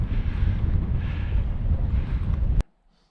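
Strong wind buffeting the microphone on a mountain summit in the Scottish Highlands in early May, a loud continuous roar that cuts off abruptly near the end.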